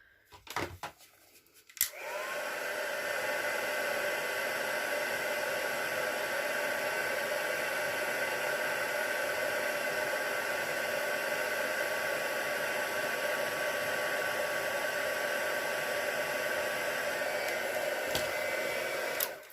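Heat tool blowing hot air over card pieces to dry them, a steady loud whooshing hiss that switches on after a brief clatter and runs continuously for about seventeen seconds before cutting off.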